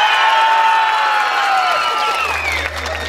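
A crowd at a jaripeo rodeo fair breaks into loud, dense applause mixed with cheers and whoops, the clapping fading slightly toward the end as a low hum enters.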